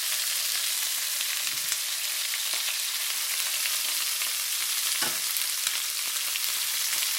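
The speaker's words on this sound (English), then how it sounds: "fry everything on the side, and you probably put a little bit more oil into it" Shrimp shells sizzle and fry steadily in oil in a pan, a continuous close crackling hiss with a few soft stirring knocks and no talk.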